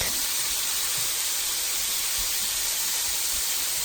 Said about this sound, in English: If the slices are sticking together, spread them out and quickly saute over high heat.